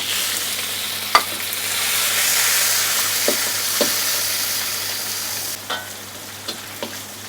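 Shrimp fry in a pan for a red curry stir-fry with long beans, giving a steady loud sizzle close by, broken by occasional scrapes and knocks of a spatula against the pan.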